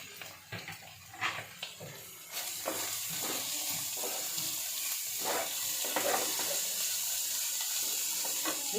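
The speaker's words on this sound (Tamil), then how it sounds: "அரிஞ்சு வச்சுருக்கிற கேபேஜ் இதில் ஆட் பண்ணிக்கலாம்." Chopped cabbage hits hot oil in a pan for a Tamil cabbage stir-fry, setting off a loud, steady sizzle that swells after a couple of seconds, with a few scraping stir strokes near the start.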